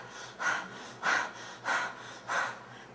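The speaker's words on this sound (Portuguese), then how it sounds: "eu vou pedir para você fazer uma respiração mais ofegante" A person pants rapidly during a breathing exercise, four quick, evenly spaced breaths, soft and close with no talking.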